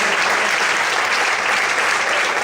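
A church congregation applauds during a sermon, many hands clapping in a loud, unbroken wash of sound with no speech over it.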